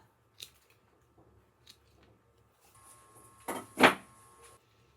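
An Ironwood cutting tool snips through wood or a root, with a few faint ticks followed by a louder crunching bite and a sharp snap near the end, close up and without talk.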